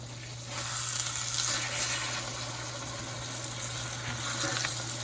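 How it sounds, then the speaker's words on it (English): Liver sizzles in a pan with bacon drippings, a steady close crackle and hiss over a low kitchen hum, with no talking. "Now it's starting to sizzle up."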